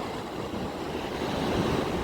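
Sea waves and a steady coastal breeze wash continuously on the beach at Dar Bouazza, Morocco, a broad, even rush of surf and wind noise with no voices.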